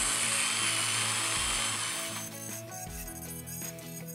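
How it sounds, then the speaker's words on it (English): A Dremel rotary tool grinds a cavity in a Hummingbird Helix 12 unit, giving a high, whining drone that dips in pitch under load before settling into a lighter, intermittent buzz. "I've just dremeled out a little bit of extra cavity there"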